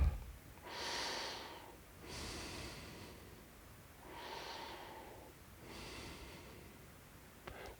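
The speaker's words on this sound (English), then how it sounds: "Listen to the sound of your breath." Slow, deep yoga breaths during a seated rest, four long rhythmic inhales and exhales, close and soft, with quiet pauses between each breath.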